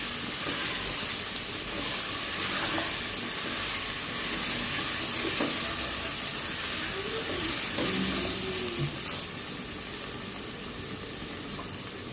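Ginger and garlic paste fries in hot oil in a pan, making a continuous close sizzle with steamy hiss and occasional faint stirring clinks, no one talking.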